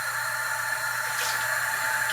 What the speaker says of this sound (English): There's a lot of stuff coming down here, so I rinse it out really, really good.